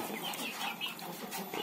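Chickens on a poultry farm cluck and chatter steadily, several birds close by, a soft continuous flock murmur with no talk.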